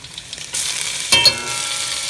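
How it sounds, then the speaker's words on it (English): Garlic sizzling and frying in a hot pan, a steady hiss that swells after a second with a brief louder burst, no talking. "you see how it starts frying?"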